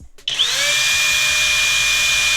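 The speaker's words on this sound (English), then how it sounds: "This is our hammer drill with turbo mode." A Flex hammer drill spins up in turbo mode to about 4,000 RPM, a sharp rising whine that settles into a loud, steady high-pitched motor hum held close.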